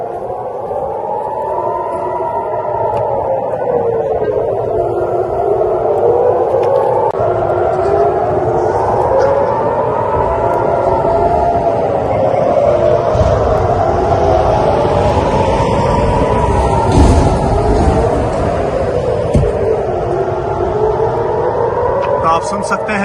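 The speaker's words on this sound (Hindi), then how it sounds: "और सायरन्स लगातार बज रही हैं।" Air raid sirens wail continuously at night in Tel Aviv during a missile attack, their rising and falling tones overlapping steadily at moderate distance under background crowd noise and a reporter's voice.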